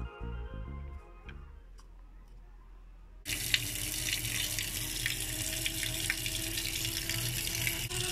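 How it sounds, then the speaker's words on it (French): Muddy water draining through a vacuum filtration setup, a steady wet rushing and trickling that starts abruptly partway through after a quieter stretch of faint ticking, continuing at even level with no talk. "Et vous voyez donc que les gouttes tombent beaucoup plus rapidement."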